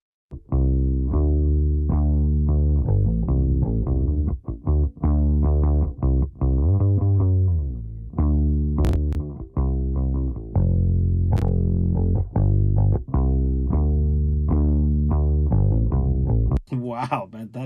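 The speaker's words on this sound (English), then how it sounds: "that distortion sounds so fucking cool" A Black Lion Audio Bluey unit with all buttons engaged gives a loud, continuous distorted tone with a chorus-like shimmer, as a sustained harmonic line shifts pitch through a series of notes.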